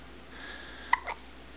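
A baby hiccups once, a short sharp catch near the close mic, followed by a softer second sound in an otherwise quiet room.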